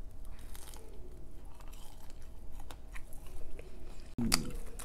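Someone chews a cheese stick close to the mic, with soft, moist mastication and a louder crunchy bite near the end over faint background noise.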